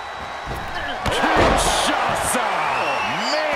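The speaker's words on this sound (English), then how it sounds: "Throw her in the ambulance and shut the doors." An ambulance door slammed shut during a wrestling ambulance match, a sharp heavy bang rising out of a loud arena crowd with shouting voices around it.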